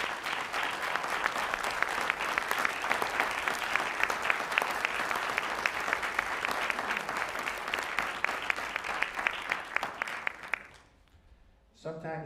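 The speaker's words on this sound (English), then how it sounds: "I would like the kids on stage to give Mr. Rick Painter a round of applause" An audience at a school event gives a sustained round of applause, dense, even clapping for about ten seconds before it fades out abruptly.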